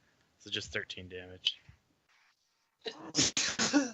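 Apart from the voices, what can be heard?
sneeze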